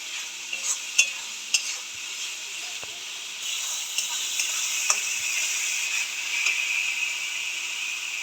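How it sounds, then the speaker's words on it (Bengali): Spices with cumin powder and a large tomato fry in hot oil, giving a steady close hiss and sizzle broken by occasional scrapes and taps of a stirring spoon, with no voices. "একটু জিরে গুঁড়ো, ভালো করে মশলাটাকে কষাবো।"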